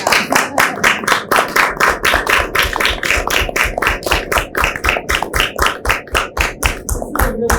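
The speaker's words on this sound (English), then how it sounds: "I think we need to do a round of applause" A small group of public meeting attendees claps at an Urban Forestry Commission meeting: steady, rhythmic clapping close by, with individual hand strikes distinct and little crowd noise beneath.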